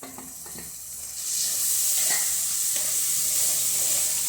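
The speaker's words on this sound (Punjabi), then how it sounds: "ਹੁਣ ਆਪਾਂ ਟਮਾਟਰਾਂ ਨੂੰ ਪਾ ਦਵਾਂਗੇ" Tomatoes drop into a pan of spice masala with turmeric powder over a low gas flame for aloo methi, and the soft sizzle swells into a steady, loud frying hiss that continues alone.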